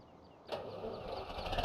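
A tractor engine in the Goldcrest Valley video game is started manually, quiet at first, then catching with a sudden rise into a steady rumbling idle, close and without voices.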